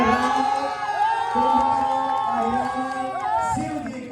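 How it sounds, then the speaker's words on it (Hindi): Loud crowd cheering and shouting at a Ram Bharat Milap award ceremony in Tilthi, a dense roar of voices with whoops throughout, applause buried in the cheering. "जोरदार तालियां।"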